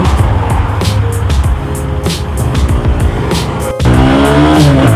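A GPX GR200R motorcycle revs loud and close as the rider shifts into second gear, the engine note rising in pitch, then dropping briefly before pulling again.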